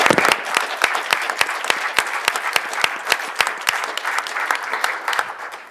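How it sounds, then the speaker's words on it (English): An audience applauds at a City of Calexico event, a dense, close, continuous patter of many hands clapping throughout, with sharp individual claps standing out above the wash. "deserves an applause."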